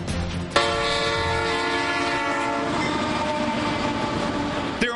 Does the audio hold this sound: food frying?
no